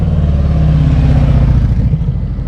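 Loud, rough engine rumble from a nearby motorcycle revving steadily with a throbbing low growl, at the Rolle Pass in the Dolomites.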